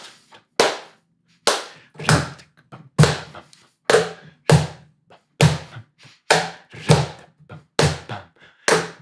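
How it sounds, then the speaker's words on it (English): Hands clap a repeating, syncopated klezmer bulgar rhythm over and over, loud and close, with uneven gaps between groups of claps. "Can you try clapping with me?"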